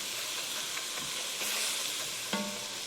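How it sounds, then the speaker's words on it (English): Ground meat for chili browns in a pan, a soft, steady sizzling hiss with a few light scrapes and one brief clank of a utensil. "this is the tool I usually use when I'm browning meat like this"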